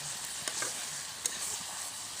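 Local chicken meat frying in a pan with a little water gives a steady, soft sizzle with a few light stirring clicks, heard alone and fairly quiet.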